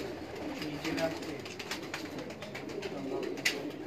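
Pigeons in a breeder's loft in Sialkot coo in a steady, close murmur of overlapping calls, with someone speaking briefly over them.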